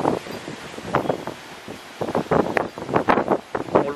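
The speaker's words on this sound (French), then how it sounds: "regardez ça, le vent souffle dans l'autre sens" Cyclone wind gusts hard just outside the eye, roaring in uneven surges with rustling, close and loud, and no one speaking over it.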